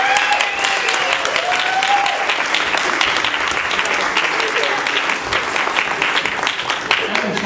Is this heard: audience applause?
yes